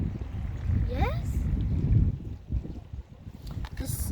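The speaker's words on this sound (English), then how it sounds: "It's kind of windy" Wind buffets the microphone outdoors beside a river in a park, a rough, uneven low rumble that rises and falls under people talking.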